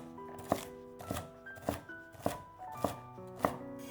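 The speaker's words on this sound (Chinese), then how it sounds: "然后将芹菜切成小碎丁，" A knife chops celery into small dice on a cutting board, giving about six steady, evenly spaced thuds, close and clear with no talk.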